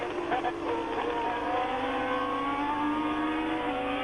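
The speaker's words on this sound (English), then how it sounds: "then they burst up over the crest and into the site of the grandstand, and it's De Angelis going to be lapped" Formula 1 race cars at the 1979 French Grand Prix at Dijon roar past in a loud, steady engine drone with rising and shifting tones, suggesting several cars accelerating over a crest toward the grandstand. No one speaks.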